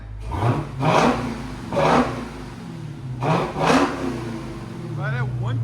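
Dodge Challenger SRT Hellcat fitted with Black Widow exhaust revving hard in several loud, close bursts, each swelling and dropping back, with brief idle between and a faint whir at the end.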